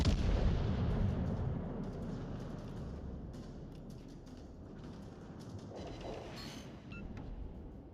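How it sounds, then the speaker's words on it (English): Heavy naval gunfire from a battleship in World of Warships Legends, a dense sustained rumbling barrage with repeated booming blasts and crackling, loud and continuous across the whole stretch with no voices. "he just fired his guns"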